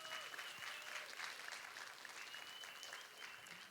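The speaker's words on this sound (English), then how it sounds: "Give yourselves a round of applause." A school writers' week audience applauds, a soft, steady patter of clapping from a crowd heard at a distance, low in level and running evenly throughout.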